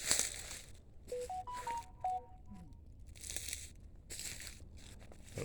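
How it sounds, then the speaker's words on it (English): A brief series of electronic phone tones, several short beeps in quick succession. They sit amid rustling and crinkling handling noise, faint overall. "That was another phone going off."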